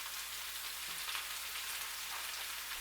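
Butter sizzling in a hot pan with sirloin steaks, a steady, even hiss and crackle like light rain, continuous and close, with no voices.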